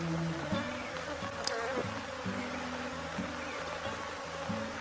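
Bees swarming around an opened beehive while boxes are rearranged, a dense, continuous buzzing hum close by with individual bees droning past, steady throughout and free of talk.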